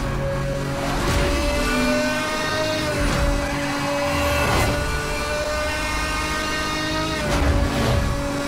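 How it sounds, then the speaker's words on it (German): Racing video game Need for Speed Hot Pursuit Remastered, with a car engine roaring at a steady high pitch throughout, rising slightly in a few surges over a rumbling drive, loud and with no talk. "Oh, brüllt die Karre."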